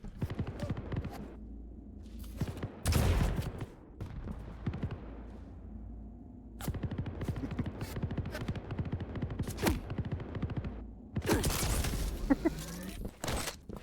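Gunfire in Quake Champions during a competitive duel, rapid bursts of shots and sharp impacts in dense clusters with brief lulls, loud and close, mixed with game effects.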